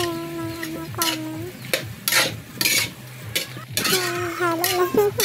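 Meat sautéing in a pan with repeated stirring and utensil scrapes against the cookware, a light sizzle underneath, and background music running throughout.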